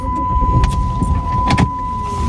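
A car pulling away from a closely parked truck, with a loud close engine and rolling noise and a few sharp clicks or knocks partway through.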